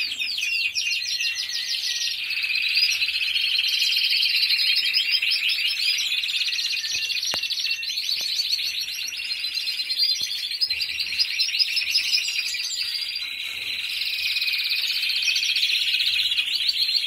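A small yellow songbird sings continuously in a bright, rapid chattering trill, close and fairly loud, with no voices.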